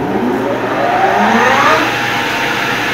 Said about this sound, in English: the lathe is running pretty nice and steady